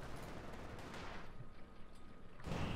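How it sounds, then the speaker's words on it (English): Incoming artillery fire in the Company of Heroes 2 wartime strategy game, striking a mortar emplacement: a dense, rumbling wash of battlefield blasts, with a louder, nearer burst at the very end. "artillery fire coming in, breaking up that mortar emplacement"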